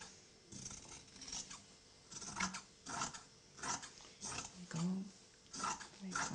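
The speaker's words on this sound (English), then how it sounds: "So cut all the way around your pocket." Scissors snipping sewn fabric around an apron pocket, trimming the seam allowance to a quarter inch: a series of close, crisp cuts in uneven bursts, with a voice partly under them.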